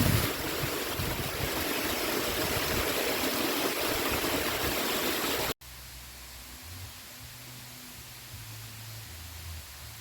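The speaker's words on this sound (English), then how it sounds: "this Paradise Waterfall, and from my research, is one of the biggest ones here" Paradise Waterfall near Chaloklum, Thailand, pours with a steady, close, broadband roar. After about five seconds it cuts abruptly to a much quieter, distant rushing hiss.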